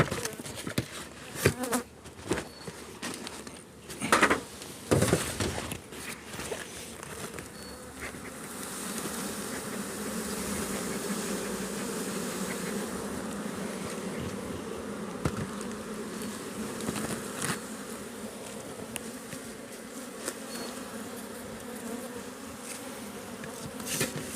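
Honeybees swarm and drone around an open beehive during an inspection, a dense continuous buzz filling the scene, with handling knocks and clatter of the hive frames early on before the steady hum settles in close.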